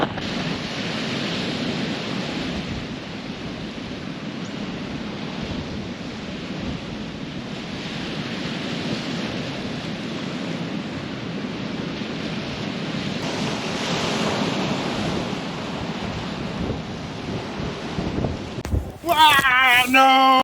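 Sea surf at Port Muck near the Giant's Causeway rolls and breaks in a continuous broadband wash with wind buffeting the microphone, and a louder splash comes near the end.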